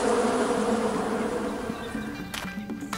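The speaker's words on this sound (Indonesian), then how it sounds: "Ada lebah yang datang dari dalam." Bees swarm around a hive being smoked out into a gourd, a dense, steady droning buzz filling the scene loudly and continuously, with a few sharper scrapes and rustles near the end.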